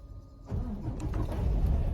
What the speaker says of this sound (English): My truck's gonna opti-idle again.